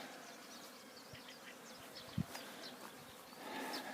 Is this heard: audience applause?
no